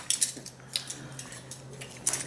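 Metal spoons clink and rattle against each other in a few sharp, bright taps that come in small clusters, close and fairly quiet, with no voices.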